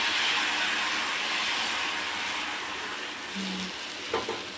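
Ragi dosa batter sizzles steadily on a hot pan with oil, a continuous close hiss with a short clink near the end and no voices.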